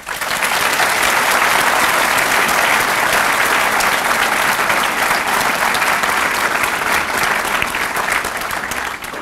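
Sustained, dense applause from a large audience at a law school orientation greets a guest speaker, loud and steady for about nine seconds with no speech over it.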